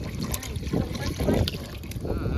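Water poured into a desi-style mutton curry, a continuous splashing trickle into the pot for a couple of seconds, with speech over it.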